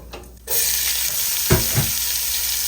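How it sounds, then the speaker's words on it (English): Onions and shallots hit a hot stew pan with a sudden loud sizzle that holds steady, broken by two brief scraping stirs near the end; no voices. "Let's add some onions and shallots."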